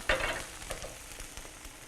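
Eggs for a scramble fry in a pan with a steady close sizzle and crackle, while a few soft scraping stirs come through and no one talks.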